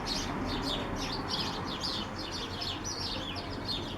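A flock of little tree sparrows chirps busily and continuously, with many overlapping quick tweets at moderate distance and no voices.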